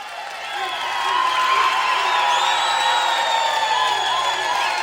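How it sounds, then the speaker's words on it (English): An audience at a polka show keeps up sustained applause mixed with cheering and crowd noise, fairly loud, with tonal whoops and voices riding over the clapping throughout. "Let's have a round of applause."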